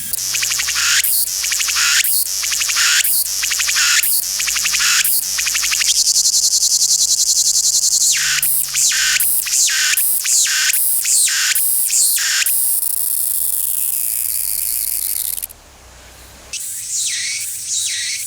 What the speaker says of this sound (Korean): 따가운 매미의 울음소리는 짝을 찾는 간절한 세레나데다.